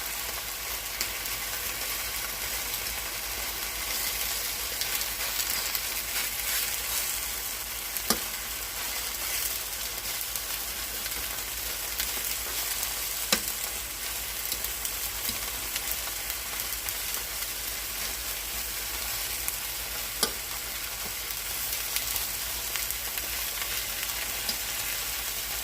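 Vegetables sizzling in a pan for Puerto Rican-style steak in salsa, a constant close crackle of frying with occasional sharp stirring clicks against the pan and no talking.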